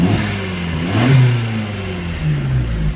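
A car engine fitted with a Bonalume switchable dump valve revs up and down in two rising swells, loud and close, with a throaty rumble that settles back between the blips.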